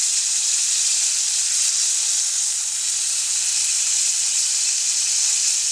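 Ribeye steak edges searing in a hot pan give a loud, steady, close sizzle with a constant hiss and no pauses.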